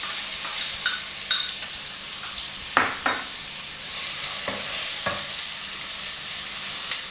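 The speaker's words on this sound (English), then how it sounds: "To that I'm adding in the chopped onions" Chopped onions fry in a tablespoon of hot oil with cinnamon, clove and cardamom, giving a steady close hiss broken by occasional spoon taps and stirring scrapes.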